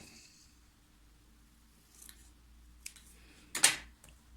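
Scissors cut paper for a pop-up page in a vintage nature scrapbook album. A quiet stretch with faint rustles leads to one short, sharp snip near the end, close by and without speech.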